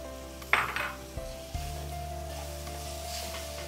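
Tomato tipped into a pan of frying spices for a beef korma: a clattering drop and sizzle, then a steady, moderately loud frying hiss with a low hum underneath.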